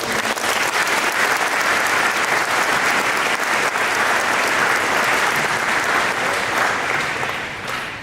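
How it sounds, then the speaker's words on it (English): Dense, continuous applause from a large crowd at a high school assembly fills the space evenly and holds strong before tapering off at the very end. "if we could offer a round of applause for former officers"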